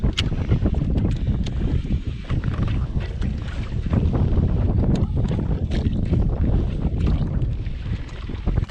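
Strong wind gusts across open water during winter fishing, with loud, continuous buffeting on the microphone and rough wave noise with no speech.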